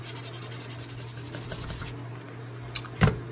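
An old knife blade rubbed back and forth against a wooden support, making a quick, steady rasping rhythm of strokes that then stops, followed by a couple of light knocks, close up and with no talking.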